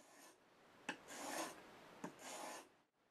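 A knife blade stroked across a fine India sharpening stone in a convex double-bevel sharpening, several close raspy strokes, each a short scrape that swells and fades, alone in a quiet room.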